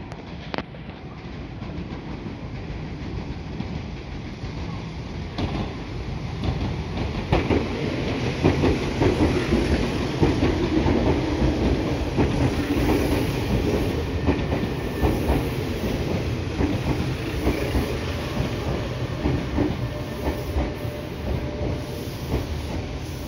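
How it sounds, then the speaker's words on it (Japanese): An 1800 series rapid express train arrives at Higashi-Okazaki station, a loud, sustained rumble of wheels and rail clatter with hissing throughout as it rolls in close by. "3番線に快速特急豊橋行きが参ります。"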